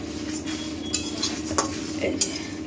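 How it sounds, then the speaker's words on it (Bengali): Whole spices, coriander, cumin and dried red chillies, dry-roasted and stirred in a kadai, with a spatula scraping and clinking against the metal in irregular knocks over a low steady rustle. "কড়াই বসিয়ে দিয়ে এই যে সবগুলো একটু শুকনো খোলায় নেড়ে নিচ্ছি"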